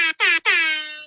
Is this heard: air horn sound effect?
yes